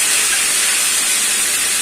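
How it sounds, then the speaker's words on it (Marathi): Mustard seeds crackle in hot oil while tempering for cheese potato wada, a close, loud, steady sizzling hiss that runs unbroken with no voices. "राई तडतडली, आपली आवाज येतोय बघा."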